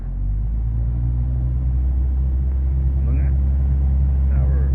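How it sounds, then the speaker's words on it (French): A light aircraft's piston engine runs up to 2000 rpm before takeoff, a loud steady droning rumble heard from inside the cockpit, with a pilot talking over it. "on met les gaz à 2000"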